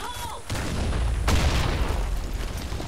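A grenade goes off in the shooter game Blackshot as a sudden loud boom that decays into a long rumbling roar, following a short burst of game noise.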